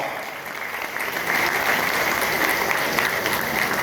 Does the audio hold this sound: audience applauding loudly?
yes